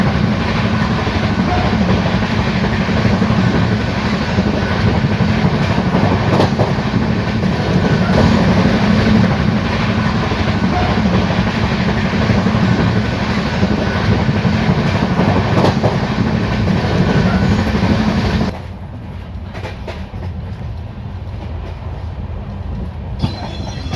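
The 17057 Devagiri Express running at high speed on an Indian line, recorded from inside: a loud steady rumble of wheels on rails with faint rhythmic clicks, the roar dropping to a quieter drone near the end.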